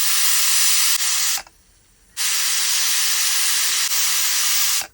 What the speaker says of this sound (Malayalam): ആവിയൊക്കെ പോയി കഴിഞ്ഞിട്ടാണ് കേട്ടോ ഞാൻ കുക്കർ ഓപ്പൺ ചെയ്തത്.